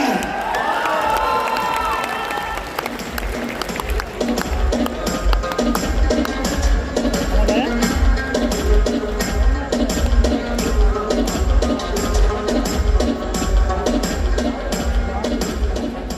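A conference audience at Connected Pakistan 2023 welcomes speaker Naeem Sikandar with sustained loud cheering, clapping and whooping. The dense crowd noise continues without break, and voices shout through it.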